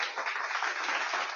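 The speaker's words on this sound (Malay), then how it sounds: "Aku kena bagi tepukan lah." A short burst of clapping, a dense, even patter of many hands that sounds thin and band-limited, heard alone for just over a second.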